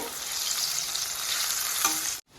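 Bitter gourd pieces frying in a pan with a dense, close sizzle and stirring, steady for about two seconds before cutting off abruptly.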